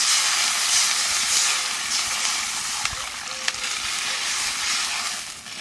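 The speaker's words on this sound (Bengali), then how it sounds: "এইবার জল দিয়ে দেবো।" Water poured into a hot pan while cooking kochur loti in a home kitchen, a loud steady hiss of sizzling steam that fades slightly over several seconds, with a few faint clinks.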